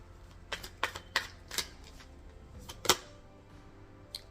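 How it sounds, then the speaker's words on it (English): Tarot cards being shuffled by hand: a handful of sharp, papery riffles and snaps spaced unevenly over a few seconds against a quiet low hum, close and fairly soft. "I'm going to shuffle."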